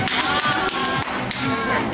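Applause from a small crowd at a Korean street food stall, with dense, quick hand claps running steadily throughout at close range.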